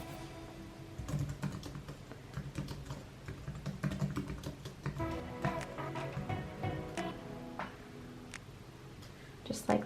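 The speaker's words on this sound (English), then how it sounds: "I'm going to retype in the box whatever I want to have it say." Keys clatter in quick, irregular bursts as text is typed on a computer keyboard in a Canva design session, close and fairly loud, with a person speaking over parts of it.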